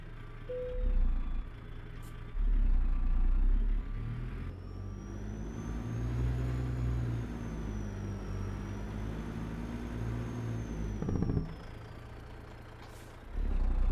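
A Detroit 60 series diesel engine in a truck-driving game, humming steadily as the revs rise and fall with a whining tone above, close and without any talking.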